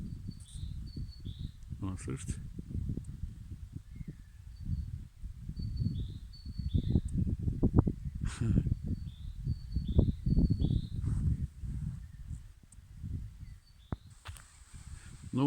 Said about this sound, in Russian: О, синица раскричалась.